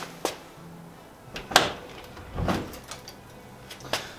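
A Mini Clubman Estate car door, loosely held on by a single bolt at the front, is opened with a few faint clunks and knocks spread over several seconds in a quiet space.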